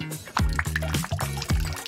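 Water being poured and stirred in a bowl as colours are mixed in to dye a doll's shoe, with repeated liquid sloshes and drips in a steady rhythm, close and fairly loud, with no speech.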